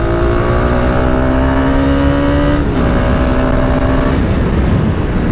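A modified KTM Duke 200 motorcycle pulls hard along an open road, its engine note rising steadily in pitch through the gear, dropping at a shift, then climbing again, loud and close throughout.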